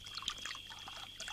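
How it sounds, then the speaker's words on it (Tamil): Liquor poured into a glass: a soft, close trickle and splash of liquid, quiet and continuous for about a second, with no talking. "ஃபுல்லா ஊத்து."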